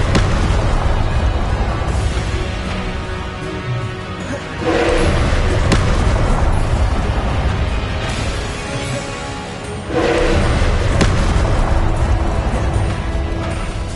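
Confringo spell explosions in Hogwarts Legacy, booming blasts recurring about every five seconds, each a loud surge that swells and lingers in a dense, roaring wash.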